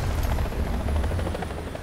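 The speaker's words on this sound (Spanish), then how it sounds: "Helicóptero." A helicopter flies in the tank combat video game War Thunder, its rotor producing a steady, loud, rapid thumping chop over a low engine drone throughout.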